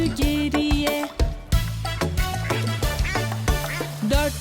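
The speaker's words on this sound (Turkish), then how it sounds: "Anne ördek dedi ki bırak bırak bırak" Cartoonish duck quacks sung over bouncy music in a Turkish children's song, the quacks repeating in rhythmic groups, loud and up front.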